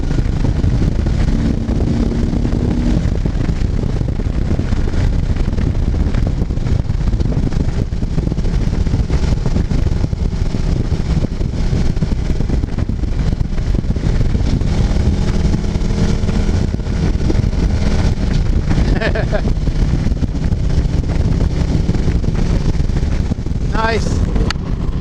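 Heavy, steady wind roar buffets the microphone while riding a Harley-Davidson Street Glide at highway speed, with engine and road noise underneath and a voice briefly talking over it.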